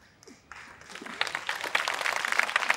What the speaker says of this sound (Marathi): फार काही टाळ्या म्हणजे वाजवताय आनंद आहे